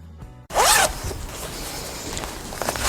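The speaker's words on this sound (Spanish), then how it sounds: "La cremallera nos ha quedado bien cerrada en un lado y en el otro." A zipper on a sewn fabric toiletry bag is pulled closed in one quick, loud rasping stroke, followed by quieter handling rustles of the fabric.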